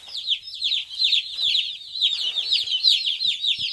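Chickens cluck and chirp continuously inside a brooder box, a dense, steady chorus of high peeping calls close to the microphone with no talking.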